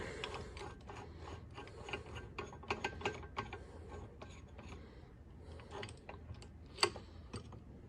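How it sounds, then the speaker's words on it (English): A pulley puller is cranked tight on a stuck, cheap electric motor, giving a run of quick metallic ratchet clicks in irregular bursts, close and fairly quiet, with one sharper snap near the end. "I really need to snug up this puller."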